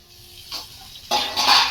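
Vegetables fry in a pan over low gas, a soft sizzle that swells into brighter bursts of crackling as they are stirred, close and fairly loud.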